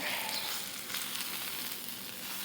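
An A5 Japanese ribeye steak sears in a hot pan with no added fat. A dense, hissing sizzle runs steadily from start to finish, close and fairly loud, and no one speaks.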